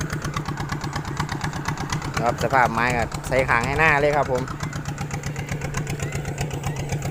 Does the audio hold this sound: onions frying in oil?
no